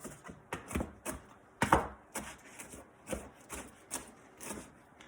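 A knife chops turkey bacon strips into small bits on a cutting board, a run of about a dozen sharp, close knocks in an uneven rhythm, with no talking.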